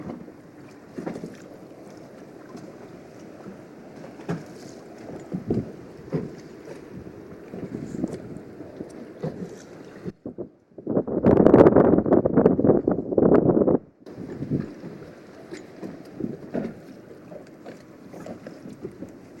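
Loud wind and outboard engine roar surround a small rigid inflatable boat on rough sea, with a burst of heavy slamming and spray midway as the hull pounds against waves.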